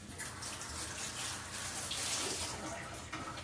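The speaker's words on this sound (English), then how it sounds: "I'm going to give this a quick rinse." A kitchen tap runs steadily while a lime is rinsed under it, a close, even splashing hiss of water that lasts the whole few seconds without talk.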